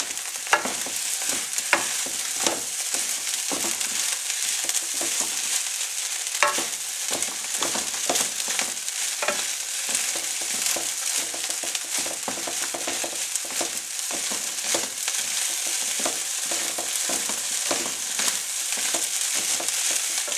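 Omelette being stir-fried into Cantonese fried rice, a steady close sizzle of frying with continual scraping and tossing of a utensil through the pan across the whole stretch.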